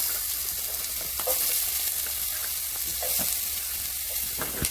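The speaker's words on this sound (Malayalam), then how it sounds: "ഇഞ്ചി വറക്കാനാണ്" Ginger frying in a pan for a Kerala-style ginger curry, a steady dense sizzle throughout with occasional clinks and scrapes of stirring, close and continuous with no talking.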